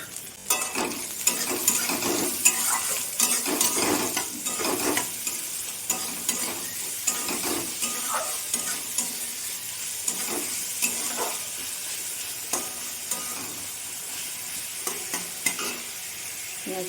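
Onions frying in oil with cumin seeds in a hot wok, a bright steady sizzle broken by repeated rhythmic scrapes of a spatula stirring, close and busy for the whole stretch, no talking.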